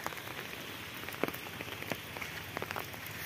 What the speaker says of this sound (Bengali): বৃষ্টিতে কি অবস্থা, কঠিন বৃষ্টি।